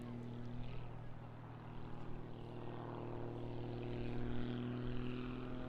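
A Pitts biplane's propeller engine hums during an aerobatic display at an Eastbourne airshow. The drone is faint and distant, holds a steady pitch, and swells slightly toward the end, with a faint murmur underneath.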